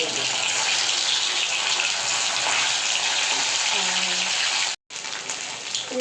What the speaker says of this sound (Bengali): দেখুন কোপ্তাটা ছেড়ে দিয়েছি, এটা ভাজা হচ্ছে।